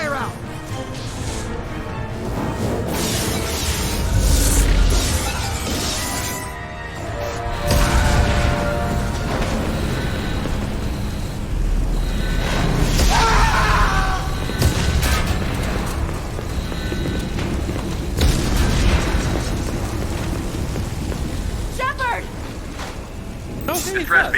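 Explosions and hull breaches rock a starship in Mass Effect, with crashes, booms and mechanical rumbles rolling through the scene under urgent shouted voices and an alarm-like tone.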